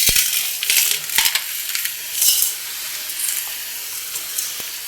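Sand is poured into a pot on the stove to make a makeshift oven for baking cake, giving a bright, gritty hiss with scattered crunchy ticks, loudest at the start and easing into a steady rustle.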